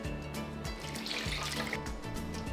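Water pours steadily into a pot of chicken thighs, onion, bouillon and seasonings for pozole, making a continuous soft splashing, running stream at moderate distance with no talking.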